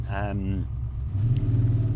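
A Ford GT40, a Le Mans race car, driven on a public road, its engine a low steady rumble that swells slightly, with someone speaking over it at the start.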